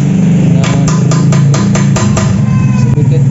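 Sharp metallic taps, about eight evenly spaced strikes, as a bearing cup is tapped into a mountain bike headset, close up over a steady low hum.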